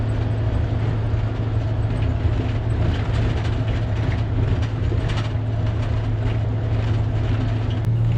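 A 1953 Kenworth bus pulls away from a small gas station, its engine a steady, loud, low droning rumble with road noise throughout and no talking.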